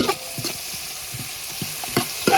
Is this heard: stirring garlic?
yes